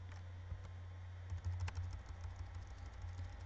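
Keys on a TI calculator are pressed in a quick, uneven run of faint clicks over a low electrical hum, with no voices.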